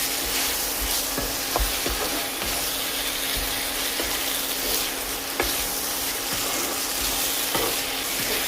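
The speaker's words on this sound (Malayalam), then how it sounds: "ഇനി അതിലേക്ക് ചതച്ച് വെച്ചിരിക്കുന്ന ചിക്കൻ ചേർത്ത് കൊടുക്കാം. നന്നായിട്ട് മിക്സ് ചെയ്യാം." Crushed chicken is stirred and fried in a pan, giving a continuous close sizzle with irregular scraping and clicking strokes of the spoon running throughout.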